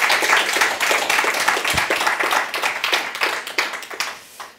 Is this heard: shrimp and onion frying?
no